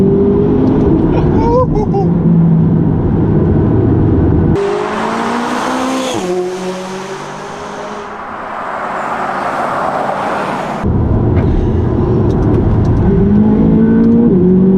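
McLaren 570GT sports car engine revving hard and accelerating through the gears, loud and close, with rising harmonic sweeps and a louder burst in the middle; a voice talks over parts of it.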